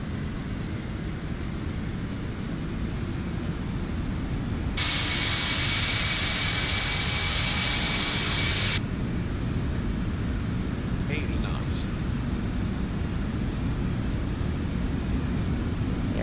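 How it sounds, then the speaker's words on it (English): Jet engines of a Boeing 767-300ER spool up during the takeoff roll in the Prepar3D flight simulator, a loud broadband roar and hiss that swells for several seconds over a constant low rumble, then drops back. "Nice engine sound."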